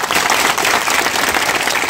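Dense, loud applause from a large rally crowd for the Vaidyanath sugar factory, steady clapping filling the whole moment without pause.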